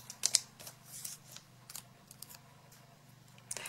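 Scissors snip out a small paper ball for handmade card making, a run of crisp, close cuts with short pauses between them and light paper rustles in a quiet room.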